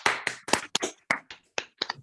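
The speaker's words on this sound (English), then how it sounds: "I would like to give Dr. Shor a big round of applause." Clapping for Dr. Shor from an online audience comes through as sparse, uneven claps and taps at close range, separated by short silences rather than forming a continuous applause.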